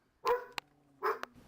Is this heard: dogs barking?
yes